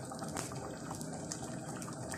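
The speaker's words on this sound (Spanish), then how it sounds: "A continuación vamos a disolver nuestra maicena en un poco de agua" Water trickles and gushes quietly into a small container to dissolve cornstarch in a home kitchen, a soft continuous pour with faint splashes and no talking.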